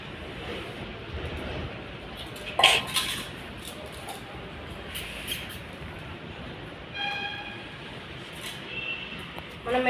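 A dog eating rice from a small metal pan, with scattered clinks and scrapes against the metal over a low background, plus brief louder knocks.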